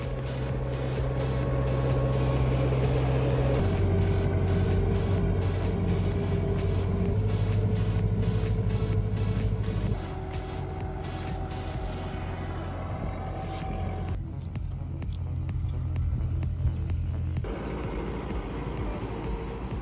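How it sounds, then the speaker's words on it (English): A Mecatral Forraguera cactus chopper with a 90-horsepower motor drones steadily and loudly, a continuous mechanical hum with a heavy low rumble and a rapid rhythmic chopping patter, with no talk. "the chopped cactus pieces are fed into the Mecatral Forraguera, powered by a 90-horsepower motor"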